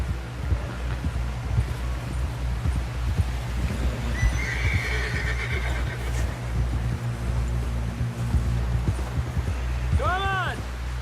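A horse whinnies near the end over continuous hoofbeats and a low rumbling background in the video game Red Dead Redemption 2, with voices talking in between.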